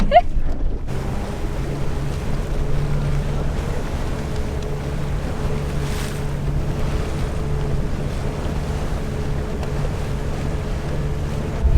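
Steady rush of a hydrofoil yacht moving fast over water, with constant hull and wind noise and a low engine hum throughout, no voices.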